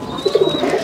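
Pigeons kept in a loft with feeding baskets give a brief, low throaty coo, close and soft, with a faint higher tone in the background.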